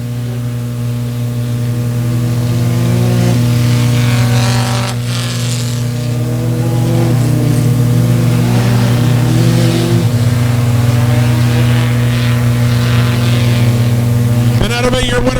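A rear-wheel drive 4-cylinder race car at Buffalo Creek Speedway holds a loud, steady engine drone with a pitch that wavers as it laps, and the engine rises sharply near the end.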